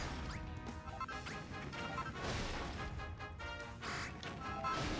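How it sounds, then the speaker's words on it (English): Hard repeated punches smash through a rock wall in Dragon Quest Builders 2, a dense run of loud crashing impacts and crumbling thuds over steady game background sound. "Do one hard punch after another, and you should be able to bust through the walls"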